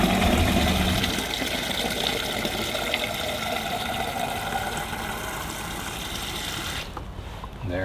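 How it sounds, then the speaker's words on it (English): Cold water runs into a watering can, a loud continuous splashing rush with a faint mechanical whine that drops slightly in pitch as the can fills, then cuts off abruptly near the end. "Fill it up with the good cold ice water."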